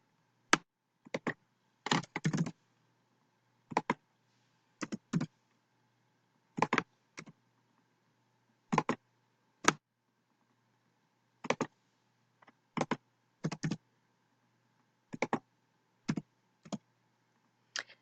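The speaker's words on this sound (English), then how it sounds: "So first I'm going to type my data into column A." Keys tapped on a computer keyboard while entering data into a spreadsheet column, coming as short separate clicks and small clusters with quiet gaps between them.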